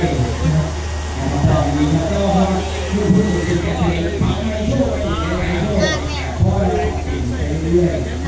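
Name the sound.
hair dryer blowing warm air backstage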